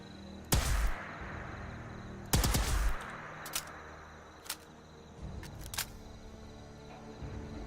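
Rifle fire in Fallout 4: two loud booming shots a couple of seconds apart, each with a rumbling tail, followed by several sharper, lighter clicks and pops.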